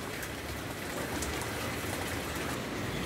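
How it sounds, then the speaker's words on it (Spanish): Steady rain falls on trees in San Luis Río Colorado, Sonora, a continuous broadband hiss of drops on leaves and surfaces, moderately loud and unbroken throughout with no voices. "Pues ya disipó un poquito más la lluvia, ¿eh? Ya no está tan seguidilla, tan tupidita."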